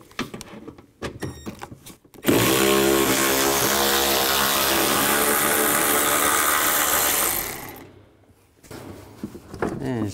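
A power tool with a 10 mm socket spins out two bolts from a bracket near the fan shroud of a 2007-14 GMC Sierra 3500HD. A few light clicks come first, then a loud, steady whirring runs for about five seconds before stopping.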